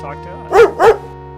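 A dog in a video game barks twice in quick succession, close and clear, over a steady low electronic hum from the game.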